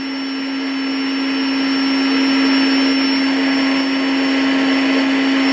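An electric pump sucks the air out of a SoundAsleep air mattress, giving a loud, steady, close whirring drone with a high whine that holds unbroken and swells slightly over several seconds.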